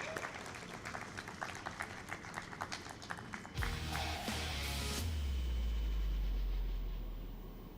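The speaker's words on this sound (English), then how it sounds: "Can we have a huge round of applause," An audience at a banking forum claps for several seconds with brisk, crowded applause. It then gives way to a low, steady rumble of room noise.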